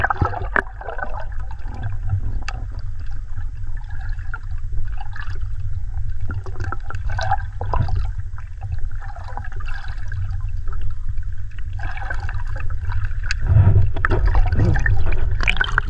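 Fast water flows at sea while the tide runs out, a continuous low rushing and gurgling current that stays close and fairly loud, with no speech.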